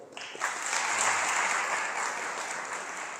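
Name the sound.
audience clapping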